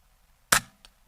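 One sharp, close crack from an Air Arms S510XS Stealth Carbine .177 air rifle during backyard plinking, with a faint pellet impact a moment later and quiet surroundings.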